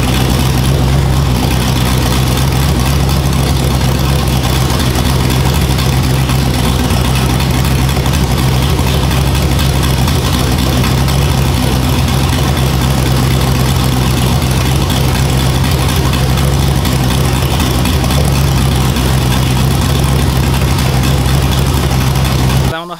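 A cammed LS-swapped G-body engine idles after start-up with a loud, continuous low rumble and a steady tone that holds throughout, then cuts off sharply at the very end.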